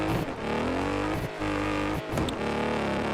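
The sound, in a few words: car engine in a racing video game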